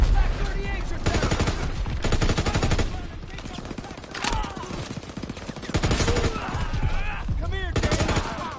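Enemy Pak 38 guns and other weapons firing in a World War II campaign video game: repeated bursts of rapid gunfire and heavy shots in several bouts, loud and dense, with in-game voices calling out beneath the battle.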